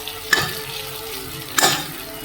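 Cauliflower fries in a pan with a steady, moderately loud sizzle. Two clear stirring scrapes, spaced over a second apart, briefly lift the sound.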